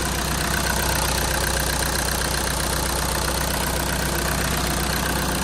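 Close up, a Volkswagen 2.0 TDI diesel engine idles with a steady, unbroken clatter, a loud, even mechanical rattle that holds for the whole stretch with no voices.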